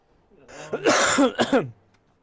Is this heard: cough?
yes